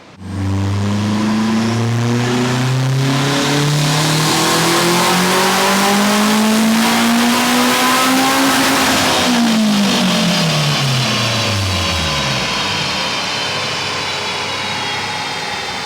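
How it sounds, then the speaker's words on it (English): Turbocharged 8th-gen Honda Civic K-Series engine on a dyno, revving loud and close in one long pull that climbs steadily in pitch, then winds down as the revs fall. "I didn't realize how crazy K-Series engines sound until I got one."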